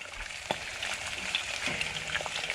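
Bacon frying on a hot plate outdoors, a constant close crackling sizzle with a few sharper pops and spits, no voices.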